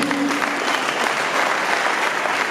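Audience applause at a youth awards ceremony, a dense steady wash of clapping from a crowd that holds even and loud from start to finish.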